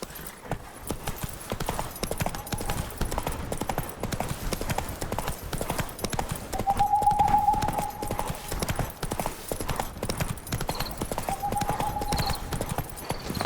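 Horse hooves clip-clopping in The Witcher 3, a fast, steady, continuous gallop heard up close with faint tonal game sounds in the background.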